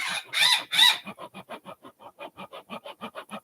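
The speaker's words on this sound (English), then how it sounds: "Yep, got a mad rooster." A couple of loud squawks, then a steady run of rhythmic clucks from a video game rooster, evenly spaced and close by.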